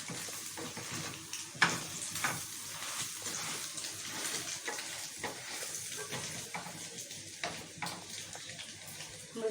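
Capsicum and carrot fry gently over low heat, giving a steady soft sizzle with occasional scrapes and stirring clatter throughout, fairly close and with no talking.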